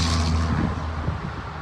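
A big truck passing near an outdoor soccer warm-up, heard as a low, broad rumble that swells and then eases away, with no voices over it.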